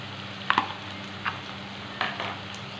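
Finely chopped small onion and ginger-garlic paste fry in hot coconut oil for a chicken dish, giving a steady, moderate sizzle with a few sharp clinks of a stirring utensil.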